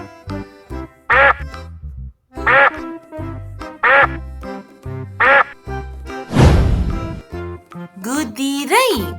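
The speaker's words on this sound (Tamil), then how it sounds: "வாத்து எப்படி கத்தும்னு தெரியுமா உங்களுக்கு?" A duck quacks in a series of about five loud, nasal calls at a fairly even pace, followed by a brief noisy burst and a couple more quacks near the end.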